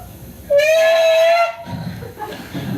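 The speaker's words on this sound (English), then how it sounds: "this student had a Snapple can, and he thought it'd be funny if he bent it into some sort of like shape and then blew in it" Breath blown into a bent Snapple can gives a single loud, steady whistling tone lasting about a second with a breathy edge, over a noisy room background.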